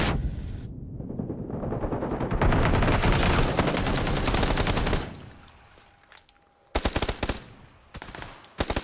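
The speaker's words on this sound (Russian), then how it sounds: "Наверху стреляет, наверху." Rapid sustained automatic gunfire in PUBG on the Karakin map rattles loudly for several seconds, drops to a quieter lull, then returns as a few sharp, close bursts of shots.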